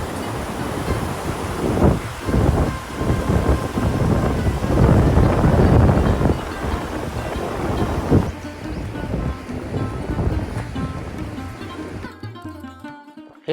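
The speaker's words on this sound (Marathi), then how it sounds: "पाणी आणि हवा त्यांचा आवाज ऐका." Rushing river water and wind roar at a bridge crossing on the Everest trek, a loud continuous surging rumble that thins out toward the end, no voices.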